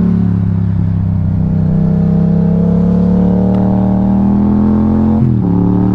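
Enduro motorcycle engine droning steadily nearby, a strong low harmonic hum that shifts pitch slightly as it passes, loud and continuous with no talk.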